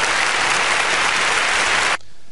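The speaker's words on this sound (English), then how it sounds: "Round of applause." A burst of studio applause from a small radio-show audience, dense steady clapping that cuts off abruptly near the end, leaving only faint room tone.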